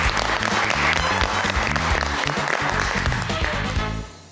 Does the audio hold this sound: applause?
yes